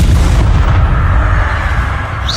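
A spell blast booms out in Hogwarts Legacy gameplay, a loud rumbling burst that swells and then fades over about two seconds.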